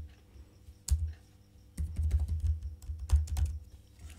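Keystrokes on a computer keyboard while an SQL query is entered: a lone click near one second, then a dense, irregular run of close, moderately loud taps with no voices.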